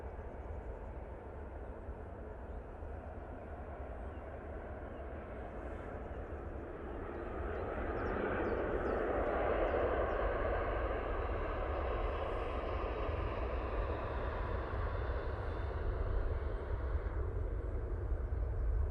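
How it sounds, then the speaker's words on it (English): A TUI Boeing 787-8 Dreamliner on short final into Manchester Airport in low-visibility fog, its engine roar swelling from a distant drone to a loud, steady rush that lingers as it passes. "TUI on short final, coming in from Bridgetown using a 787-8 Dreamliner."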